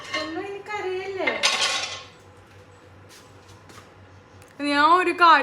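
Dishes and pots clink and clatter while being washed by hand in a home kitchen. Fairly close, with a vocal voice at the start and end and softer scattered knocks between.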